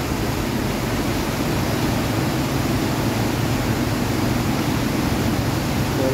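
A creek swollen by sudden heavy rain rushes past in a constant dense roar, close and loud for the whole stretch with no break and nobody talking.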